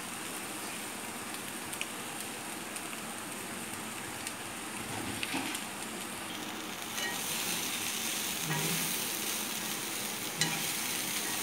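Masala chickpea sundal is stirred in a lightly oiled pan over a simmer, with a steady soft sizzle broken by occasional scraping strokes of the spoon, close and continuous, with no talking.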